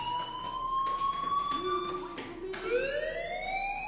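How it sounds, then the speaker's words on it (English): A fire alarm wails continuously in the game Life is Strange, a loud steady electronic tone that bends upward partway through, heard alone at close range. "Hey, do you hear that fire alarm? That means you should be outside."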